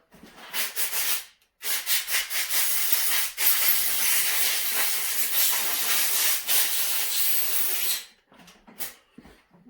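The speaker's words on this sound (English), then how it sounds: "I'm just going to blow it off with some compressed air off camera." Compressed air blasts onto a Homelite carburetor in long, loud hissing bursts, separated by short pauses of near silence.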